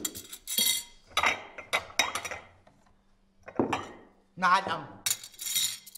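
Plates and dishes are brought and set down with scattered clinks and clatters, interleaved with people talking.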